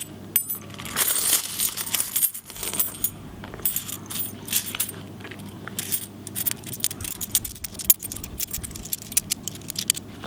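Eleven 50-cent coins jingle and clink inside a Chanel wallet, a steady run of close metallic rattles and small taps with scraping handling noise throughout.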